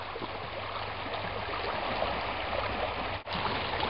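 River water flowing steadily at a campsite, a close, continuous rushing wash that briefly dips near the end, with no talk.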